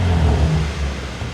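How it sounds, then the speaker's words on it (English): Close, deep rumble of a car engine with a valved sports exhaust, valves shut, revving briefly and then settling back toward a steady burble. "Let's give it a few revs with the valves closed."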